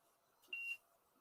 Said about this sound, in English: I'm getting some kind of beeping noise.